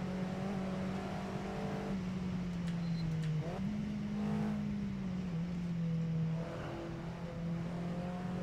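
An Alfa Romeo 4C race car engine in the video game Assetto Corsa drones steadily at high revs, shifting pitch slightly as it accelerates and eases off, loud and continuous.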